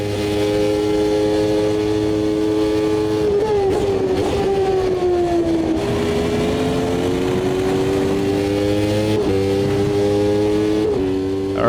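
A loud, close 1993 Formula 1 car engine in the sim racer Automobilista 2 wails at high revs, its pitch sagging through gear changes and then pulling back up through several shifts.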